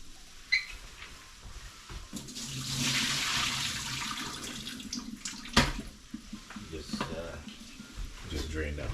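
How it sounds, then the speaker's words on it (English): Water gushes and splashes steadily as it is drained from a pot of boiled root vegetables, yams and cassava, in a home kitchen, a continuous rushing pour with a few clanks near the end. "Just drain that water out of there."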